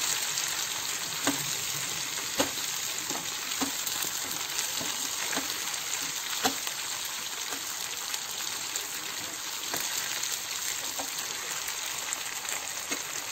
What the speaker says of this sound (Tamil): பார்த்தீங்கன்னா கறி மீன் நல்ல ஃப்ரை ஆகிடுச்சு